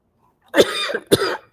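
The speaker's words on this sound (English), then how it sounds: "Sorry, we're all coughing away here." Two sharp coughs close by, about half a second apart, each a harsh burst with a short raspy tail, with silence before them.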